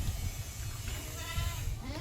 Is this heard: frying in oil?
no